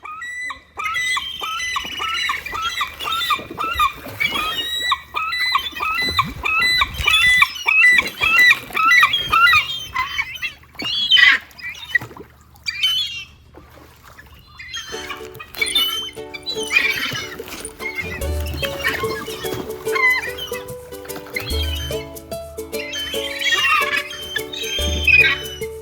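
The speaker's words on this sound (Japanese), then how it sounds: "と思っていたら、すぐにカモメが寄ってきました。" Seagulls crowd in squawking and calling at a pier on Lake Toya while birdseed is scattered, their harsh cries repeating in busy overlapping bursts, fairly close, with a steady low hum and other noise mixed in toward the end.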